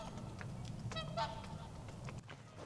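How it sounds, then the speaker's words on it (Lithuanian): Geese honk a few times in the distance as the flock returns overhead, faint calls over a low outdoor background near a caravan frame under repair. "Grįžta paukščiai."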